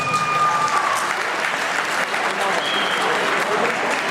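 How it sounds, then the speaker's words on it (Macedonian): Loud, steady audience applause fills a hall at an educational awards event as a music school receives a special prize, with a few faint tonal notes over the continuous clapping. "јас би ве замолил за огромен аплауз"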